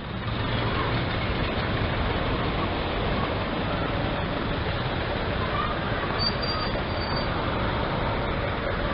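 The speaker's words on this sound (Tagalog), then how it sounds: "Dadaan na naman yung train." Train passing by, a dense continuous rumble and rattle of rail cars heard nearby, steady throughout with a faint squeal near the end.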